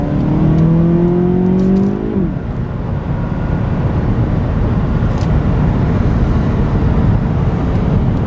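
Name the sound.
2014 Cadillac CTS 2.0 turbo accelerating hard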